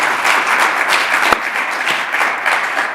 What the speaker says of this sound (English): Surely we all deserve another round of applause for this milestone.